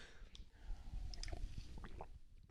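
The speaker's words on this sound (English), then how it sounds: "I had to take a sip of water real quick" A person takes a quick sip of water close to the microphone, with faint wet slurping and swallowing sounds over low background noise.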